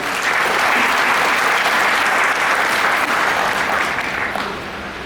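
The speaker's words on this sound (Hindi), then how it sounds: "इसके लिए भी जोरदार ताली बजाइए।" Loud, sustained applause from a seated audience at an Amway business seminar, a dense steady wash of clapping that eases off slightly near the end.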